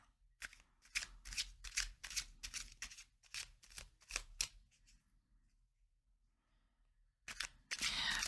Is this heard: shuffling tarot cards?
yes